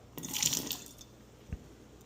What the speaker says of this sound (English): Let's pour some out.